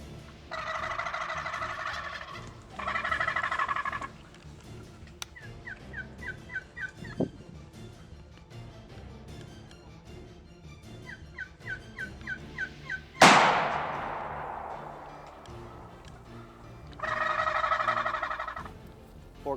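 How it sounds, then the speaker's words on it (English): Wild turkey gobblers gobbling in the woods, several loud rattling gobbles spaced across the span, some near and some farther off, mixed with softer clucks and a sharp crack partway through. "And now they hear a gobbler up there."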